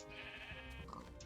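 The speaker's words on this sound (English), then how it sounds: "Sheeps." A sheep in a video game gives a short, wavering bleat, close and clear, lasting about a second.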